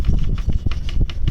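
Rapid, repeated mechanical clacking from a faulty, removed air conditioning compressor from a Hino 500 truck as it is turned by hand, close and loud, in an uneven rattling rhythm.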